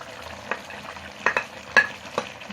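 Chopped onion goes into a pan of chicken frying with olives and lemon, giving a soft steady sizzle broken by several sharp scraping stirs, close and moderately loud, with no talking.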